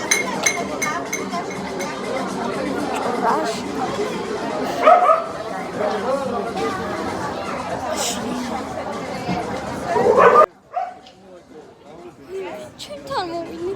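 Dogs bark and yip in short, irregular bursts, with voices and clinking close by, then the barking drops away and a quieter stretch follows.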